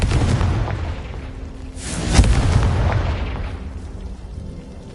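A Confringo fire-spell blast in Hogwarts Legacy goes off as a single loud, sharp explosive boom near the middle, its rumble trailing off amid low background noise.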